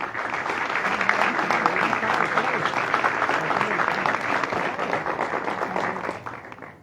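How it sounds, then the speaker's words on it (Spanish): A crowd at a book launch for a 90th-anniversary history of the Always Ready football club claps warmly and continuously, a dense, even wash of applause that tails off at the very end. "La recibamos, por favor, con un cálido aplauso."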